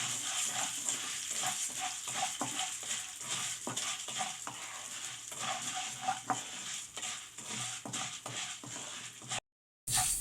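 Urad dal being stirred and dry-roasted in a pan for garlic podi, with a steady scraping shuffle and faint sizzle that runs on, close up, and a brief break near the end.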